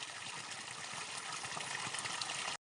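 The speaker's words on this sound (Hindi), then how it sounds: "जगह जगह पानी पानी है, और धारे में भी लबालब हो गया।" Water rushes through a brimming stream in the Uttarakhand hills after heavy rain, a steady, full broadband gush that continues evenly and cuts off abruptly.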